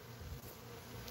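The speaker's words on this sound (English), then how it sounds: "I'm starting to see the great cloud of bees coming from that way." Honey bees swarm in flight near trees, a steady continuous buzzing hum at moderate level with no talking.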